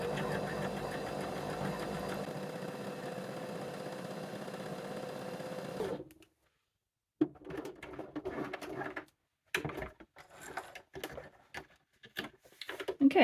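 A sewing machine stitches the seam of an upcycled teddy bear, humming steadily and fairly quietly for several seconds, then running in short, halting bursts.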